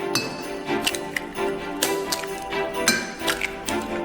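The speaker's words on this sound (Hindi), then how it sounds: "दूसरे में 4 अंडे तोड़ते हैं और मिक्स करेंगे" Four eggs are cracked into a dish and mixed. A series of sharp taps and light clinks come at an irregular pace, close and moderately loud, with no clear talk.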